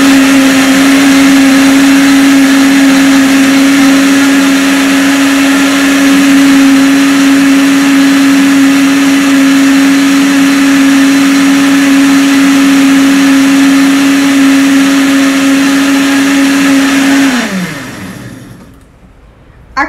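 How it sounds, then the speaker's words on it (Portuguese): Crepe batter with melted butter and a pinch of salt whirs in a blender at a steady, loud motor pitch for most of the time, then the motor winds down and stops near the end. "Vou bater mais um pouquinho só para terminar de homogeneizar."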